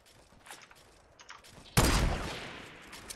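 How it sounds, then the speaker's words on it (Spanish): Gunfire in a Fortnite match starts with faint, distant pops and then breaks into a loud, sharp burst of shooting that trails off into a rumbling tail. "Hay gente disparando por ahí."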